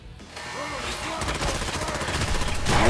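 Sustained automatic gunfire from the video game Fallout 4 builds into a dense, rapid rattle over a few seconds, growing louder toward the end, with a voice briefly audible beneath it.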